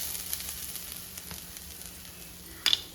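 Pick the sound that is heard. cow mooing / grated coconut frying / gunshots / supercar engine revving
grated coconut frying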